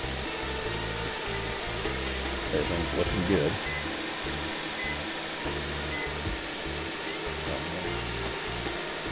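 Subaru Outback 3.6R engine, a 2015 fifth-generation model, idles steadily after a new serpentine belt is fitted, a constant mechanical whir and hum with someone speaking briefly over it.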